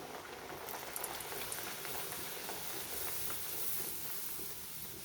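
Pea-filled kachori deep-frying in hot oil, a steady dense sizzle and bubbling that holds evenly throughout with small crackling pops, no voices.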